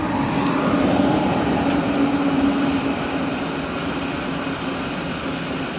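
A train passes nearby with a sustained, heavy rumbling roar that stays loud and even throughout, with no voices over it.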